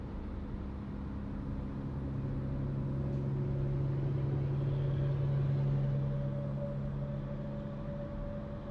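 On the road, a truck passes a car with a steady low engine drone and road roar that swells in the middle and then eases off. It is heard from inside the vehicle, without talk.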